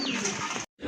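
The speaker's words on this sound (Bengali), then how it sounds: "এটা হচ্ছে আপনার কাগজি কবুতর, একেবারে গোলাপি ঠোঁটের কবুতর" A paper pigeon with a pink beak gives a short, close, soft coo that stops abruptly.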